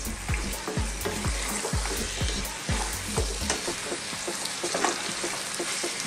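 A zucchini and tomato stew fries in a pan with a constant sizzle, while a spoon knocks and scrapes against the pan in a quick run of rhythmic stirs during the first three seconds, then slows to scattered taps.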